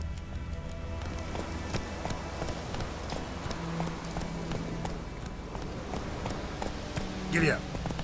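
Hooves of the horse Roach galloping in The Witcher 3, a rapid repeated clip-clop running steadily under game music and ambience, with a short burst of a voice near the end.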